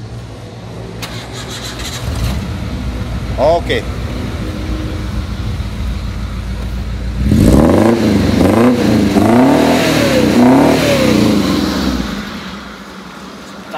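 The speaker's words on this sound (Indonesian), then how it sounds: "Suaranya keren karena memang mobil ini sudah pakai knalpot header full system." A 1994 Daihatsu Feroza SE engine cranks and catches, then revs in rising and falling bursts through a full-system header exhaust, loud and close, with a brief spoken word near the start.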